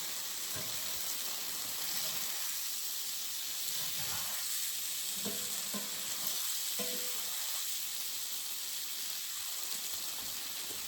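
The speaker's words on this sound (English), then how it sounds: "We just want to get a little bit of browning on them, that's all." Meat browns in a pan for a Mulligan Irish stew, a soft, even frying hiss with a few quiet utensil knocks and scrapes scattered through, fairly faint and with no talking.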